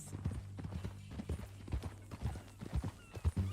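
Horse hooves clip-clop on the ground in the Western video game Red Dead Redemption 2, an uneven walking rhythm of soft thuds under a low steady hum, with faint in-game talk now and then.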